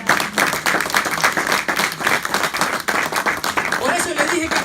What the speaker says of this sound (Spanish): Tú, dele un aplauso al Señor